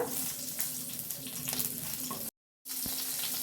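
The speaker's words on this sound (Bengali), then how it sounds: "সর্ষের তেল দিয়ে দিচ্ছি কালো জিরে কাঁচা লঙ্কা" Nigella seeds and green chili fry in mustard oil for a fish curry, making a faint, steady sizzle with light stirring clicks and a brief dropout near the end, with no talking.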